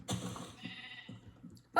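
Sheep in a video game bleat in a short series of about three or four close, clear calls that fade in strength, with a brief sharp sound at the very end.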